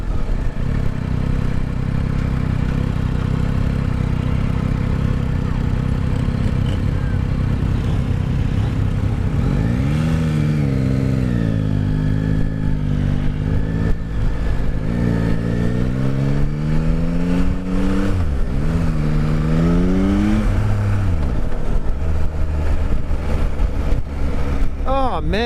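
A Yamaha Tracer sport touring motorcycle engine runs steadily with a smooth, refined drone, rising and falling through several revs and throttle sweeps in the middle, loud and close over wind rush.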